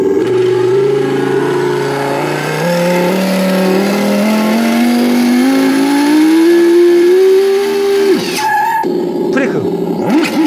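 An RC rally car's electronic sound kit plays a loud, close synthesized engine note that rises steadily in pitch like a revving motor, then cuts off into brief sputtering bursts near the end.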